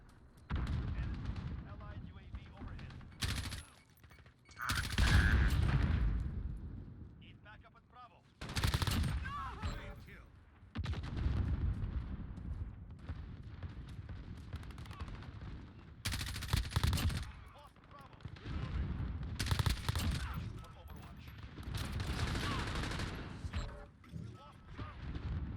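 Gunfire in the video game Modern Warfare, with repeated bursts of rapid automatic shots and sharp cracks in irregular clusters, loud and close, separated by quieter gaps with a voice speaking.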